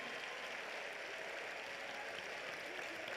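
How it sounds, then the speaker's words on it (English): An audience at a live summit event claps steadily, a dense, even wash of many hands that holds throughout with no voices standing out. "Let me pick somebody clapping."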